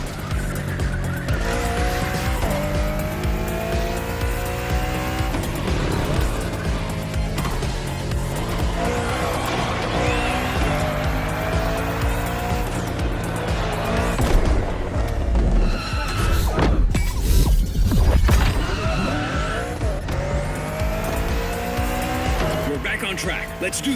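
Race cars lapping a track in uncertain weather in The Crew Motorfest, engines roaring and shifting continuously up close with tire squeals and skids, under game voices.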